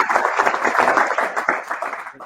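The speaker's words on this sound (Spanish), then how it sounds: "Por favor, un fuerte aplauso acá a Alberto, María" Applause from an audience at a human rights forum on democracy and guarantees of non-repetition, steady clapping from many hands sustained through the whole stretch at moderate loudness.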